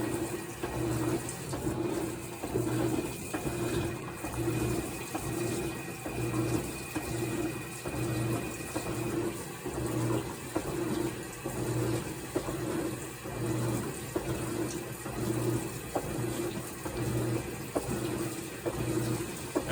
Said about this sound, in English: water is still flowing into the machine as it's agitating